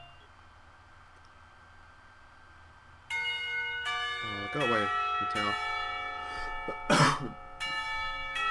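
A bell rings out in a Katawa Shoujo visual novel school scene, several bright tolling strikes following a quiet stretch, with a voice speaking over it.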